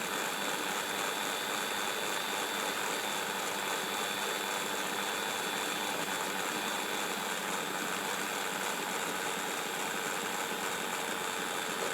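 A Mantua 0-4-0 model locomotive runs at throttle 35, producing a continuous, even mechanical hum and whir with no pauses or changes throughout.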